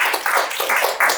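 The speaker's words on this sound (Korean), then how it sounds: "다시 한번 큰 박수 부탁드립니다" Brief clapping from an audience at a Daejeon policy forum on senior housing, a close burst of hand claps pulsing in quick uneven waves with no one speaking.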